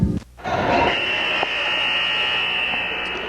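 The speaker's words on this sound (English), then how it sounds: "Loud buzzer there." A loud, sustained electronic buzzer blares steadily for a few seconds after a brief burst of crowd noise, echoing in a large gym during a women's college basketball game.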